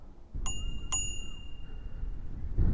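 Two bright, ringing dings from the handlebar bell of a GYROOR C1Plus electric scooter, about half a second apart, the second tone lingering, over a low background rumble.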